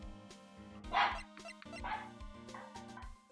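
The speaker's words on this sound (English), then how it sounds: "Sorry about the dogs." Dogs bark indoors, a few loud yaps and whines in an irregular burst, heard over a steady tonal background hum.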